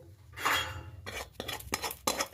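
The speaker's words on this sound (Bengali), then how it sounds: "থালাতে ঢেলে দিলাম, একটু ঠান্ডা করতে দিই" A cooked vegetable mixture for vegetable chops is scraped out of a pan onto a plate with a metal utensil, making close clinks and scrapes in several short bursts.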